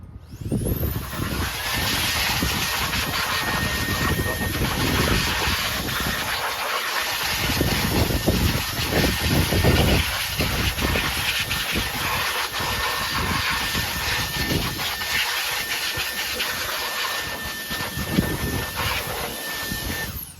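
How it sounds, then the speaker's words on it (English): A small electric air blower cleaning lawnmower parts makes a loud, steady, continuous whooshing roar with a high whine, its pitch and force shifting slightly as the air hits the parts, heard alone without talk. "Actually, it's not really compressed air, it's just this little blower."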